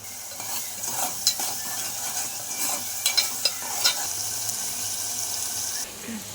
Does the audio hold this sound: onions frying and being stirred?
yes